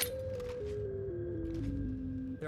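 A scale on a sustained, tone-like instrument steps downward note by note at an even pace, each pitch held briefly before dropping to the next, with soft breathy noise around the note changes.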